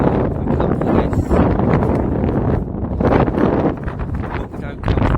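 Strong wind buffets a summit campsite at sunset, a loud, continuous roar of gusts battering the microphone close up, with a person talking intermittently underneath.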